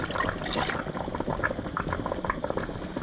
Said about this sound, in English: I'm going to take and pour my product into my Pyrex